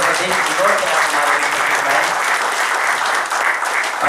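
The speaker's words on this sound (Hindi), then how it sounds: "जोरदार तालियों के बीच" Loud, continuous applause from an audience at an award function in Indore, Madhya Pradesh, dense clapping sustained without a break for the whole stretch.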